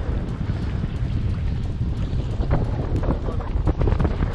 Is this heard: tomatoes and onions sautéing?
no